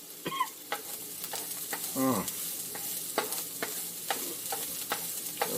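Onions frying in a pan, starting to caramelize, with a steady sizzle and repeated scraping strokes of a utensil stirring them, fairly close and with no talking.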